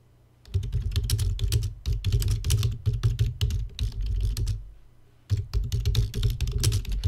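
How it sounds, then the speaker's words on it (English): Loud computer keyboard being typed on rapidly and continuously, dense clattering keystrokes close to the microphone, with a brief pause before the typing resumes. "I can't believe how loud this keyboard is, by the way"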